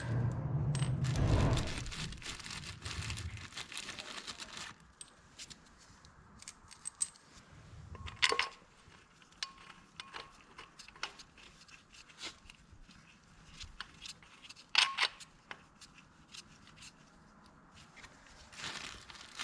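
Metal flywheel bolts on a Minneapolis Moline A4T 1600 tractor clink and jangle as they are handled, with scattered sharp metallic taps after an initial burst of louder rustling, close and fairly quiet, no voices.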